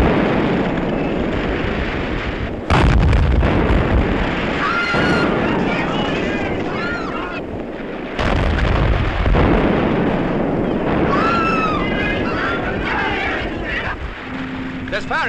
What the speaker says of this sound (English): There's firing around that headland.